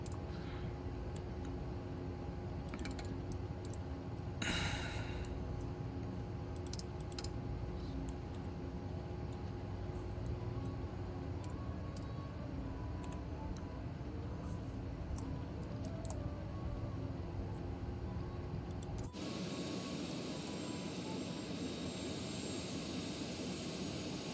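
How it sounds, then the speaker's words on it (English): Auxiliary power unit of a Cessna Citation C680 business jet spooling up in a flight simulator while taxiing, a steady whine and low rumble that holds for about nineteen seconds and then shifts abruptly to a brighter, louder roar. "We'll start up the APU."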